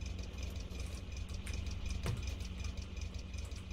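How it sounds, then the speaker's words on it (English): A car engine runs steadily in the video game The Long Drive. The turbocharged motor gives a low, even drone with a faint rhythmic knock, and one brief sharp click sounds partway through. "This engine can do good."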